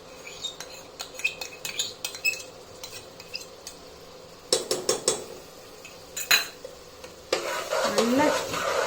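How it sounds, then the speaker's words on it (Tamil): Ground masala frying in oil for Dindigul mutton biryani, with a stirring spoon scraping the pan in bursts and a steady sizzle swelling louder near the end, close and clear with no talk. "மசாலாவை போட்டு நல்லா எண்ணெயில் நல்லா ஃப்ரை பண்ணணும்"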